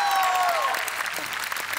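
Studio audience at a Marathi comedy show applauding, a dense wash of clapping heard close and fairly loud, with a fading tonal music sting over the start.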